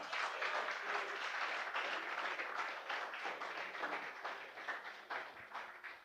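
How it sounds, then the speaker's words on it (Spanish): Soft, steady applause from a church congregation during a Spanish-language sermon, continuous, somewhat distant and fairly quiet throughout. "Dale un fuerte aplauso al Señor."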